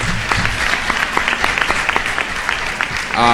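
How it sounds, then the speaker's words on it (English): An audience at a live-streamed awards announcement claps steadily for a competitor, with a voice starting to speak over the applause at the very end. "A round of applause for him, please."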